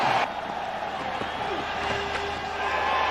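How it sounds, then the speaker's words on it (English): A cricket crowd roars in a packed stadium at Gwalior during a 2003 India tri-series one-day match, a broad sustained swell of cheering that fills the whole clip, with an announcer talking over it. "The crowd erupt here in Gwalior."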